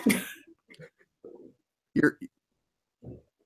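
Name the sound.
cough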